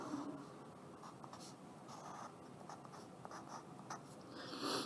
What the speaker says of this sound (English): So now we can just write the equation.